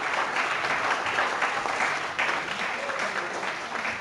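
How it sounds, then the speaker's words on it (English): A room full of people gives a steady round of applause for Class 6 at a school award presentation, dense even clapping with no talk, holding at a constant level for a few seconds. "Can we give Class 6 a round of applause?"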